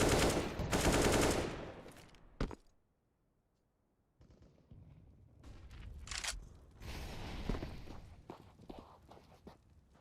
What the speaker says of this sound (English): The deagle from Dapper. Oh, he hit